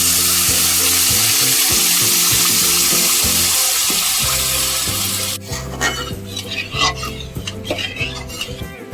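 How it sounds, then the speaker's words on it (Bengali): Water poured into sizzling pabda fish curry masala with mustard and poppy seed: a loud, steady frying hiss for about five seconds gives way to quieter bubbling with scattered clinks, all over low background music. "এখন আমি পরিমাণ মতো জল দিয়ে দেব।"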